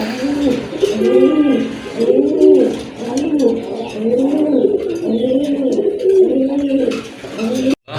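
A pair of pigeons coos in a steady rhythmic series of low rolling calls, close and clear, repeating about a dozen times with faint chirps and distant voices behind.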